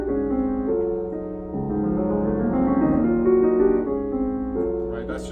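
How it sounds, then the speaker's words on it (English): Piano vamping on a Steinway in a piano gallery, repeated chords shifting in a steady pattern, close and full-bodied, alone with no voice. "So it begins with kind of a piano vamping, right? So it sounds like this."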